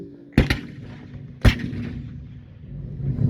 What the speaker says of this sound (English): with the cannon going off there